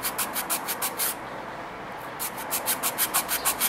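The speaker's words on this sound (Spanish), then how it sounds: "hacer es limar los laterales y la punta" A nail file rasps along the sides and tip of a gel nail in quick, even back-and-forth strokes, close and clear, with a brief pause midway before the rhythmic filing resumes.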